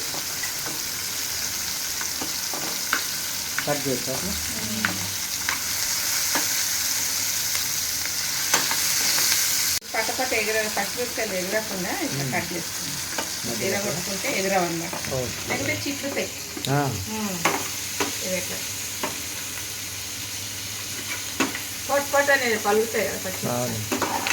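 Peanuts roasting with oil and pink salt in a pan, sizzling and frying steadily throughout while being stirred, with scraping, rattling and occasional clinks from the utensil against the pan.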